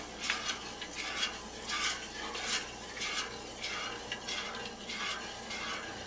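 Homemade mac and cheese is stirred to work the cheese through, a spoon scraping and swishing around the pot in repeated rhythmic strokes, close and fairly soft, with no talking.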